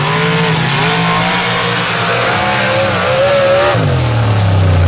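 Super stock drag race cars at an MRA championship round roar at full throttle, one car lifting its front wheels, with loud sustained engine noise and rising revs and a gear-change drop near the end.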